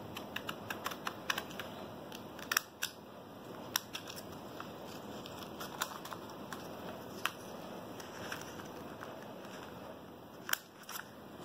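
Scissors snip through paper in short crisp cuts, cutting out the exterior angles of a paper polygon for a maths activity; the clicks are close but fairly quiet over a steady room hiss.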